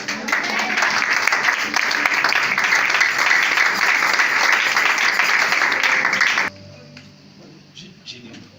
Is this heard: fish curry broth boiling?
no